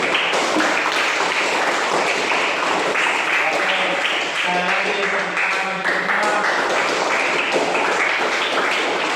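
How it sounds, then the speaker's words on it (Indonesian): A classroom of students clapping together after group presentations, a busy, continuous patter of many hands with some chatter and voices mixed in throughout. "Oke, bisa tepuk tangan untuk kita semuanya."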